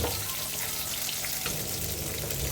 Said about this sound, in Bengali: এখানেও তেলটা গরম হয়ে গেছে, কালো জিরে ফোড়ন দেবো।